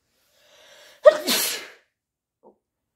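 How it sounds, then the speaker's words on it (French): A woman gives a single sudden sneeze up close, a short intake of breath followed by a sharp, loud burst that quickly fades, then near silence. "je m'attendais pas à éternuer, je suis désolée"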